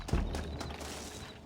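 Faint horse hoof clip-clops in the video game Red Dead Redemption sound softly over a low background rumble, a brief few steps without a clear pace.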